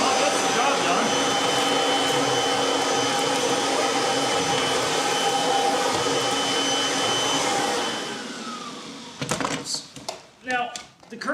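A Kirby Generation 3 vacuum cleaner fitted with a bare floor tool runs with a loud, steady roar for about eight seconds, then winds down and cuts off, leaving a few brief knocks and handling noises.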